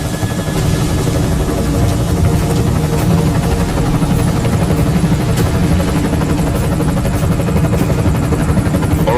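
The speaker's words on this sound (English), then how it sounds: "Enemy helo sighted." An enemy helicopter in the video game Deus Ex Mankind Divided thrums continuously with rapid rotor beats and a heavy engine drone, loud and steady, with no voices over it.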